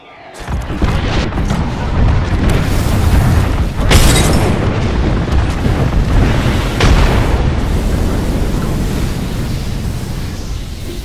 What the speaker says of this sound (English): Calling the airstrike. Throwing thermite grenade.